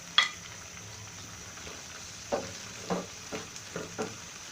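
Sliced onion and capsicum fry quietly in a pan, a soft low sizzle broken by several brief scrapes and knocks from stirring.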